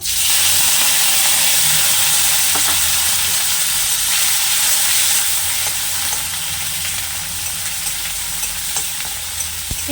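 A medium-sized sliced onion fries in hot oil in a pan for a home-style chana dal with egg and potato, giving a loud, continuous close-up sizzle and hiss with occasional stirring scrapes and no talking.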